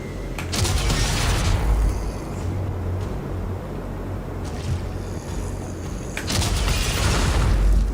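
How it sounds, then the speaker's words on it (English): Grenade launcher firing in a video game: a couple of heavy booming blasts with a hissing burst, separated by a rumbling lull, loud and close with no talk. "let's start with the nade launcher"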